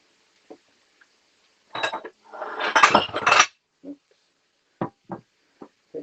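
Bowls, pans and cutlery clatter while a Thai-style pork rice bowl is served, with a burst of scraping and clinking in the middle, then several sharp separate knocks and clinks close by.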